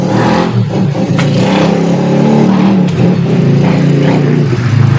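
A motorcycle engine revs loudly and close by, rising and falling in pitch across several throttle bursts with a steady rumbling idle beneath.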